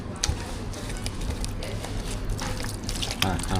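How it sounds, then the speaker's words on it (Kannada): Water trickles and splashes softly as it is added to a paneer tikka batter during mixing, a faint, continuous liquid sound with light clinks, heard alone at low level. "ಆಮೇಲೆ ಇದನ್ನು ಉಪ್ಪು ಖಾರ ನೋಡಿಬಿಟ್ಟು ಸ್ವಲ್ಪ ನೀರು ಕೊಡಿ"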